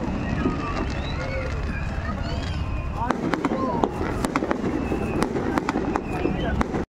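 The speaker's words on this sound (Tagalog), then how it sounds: "Yung fireworks, ano yan?" Fireworks crackle and pop in quick irregular bursts, a dense scattered stream of sharp snaps growing busier partway through, heard over a steady background with people talking nearby.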